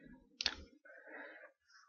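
A computer mouse button pressed once, giving one crisp, close click followed by faint, soft tonal murmurs and then quiet.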